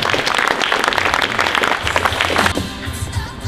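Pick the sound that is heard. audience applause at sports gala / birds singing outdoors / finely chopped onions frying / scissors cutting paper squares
audience applause at sports gala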